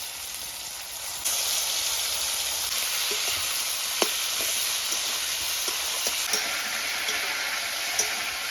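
Eel (kuchia fish) frying in a pan for an Assamese eel curry, with a soft hiss that jumps into a loud, steady sizzle after a moment, dotted with scattered pops and light stirring knocks, close by and without talk.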